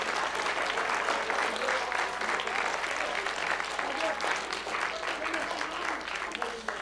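Sustained applause from a seated classroom audience, a dense continuous patter of many hands at an even level throughout, with some voices mixed faintly underneath.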